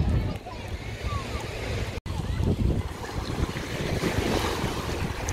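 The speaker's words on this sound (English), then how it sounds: "Yeah, at the beach!" Waves and surf wash continuously at a beach in Weston-super-Mare, with gusty wind buffeting the microphone and faint voices in the background.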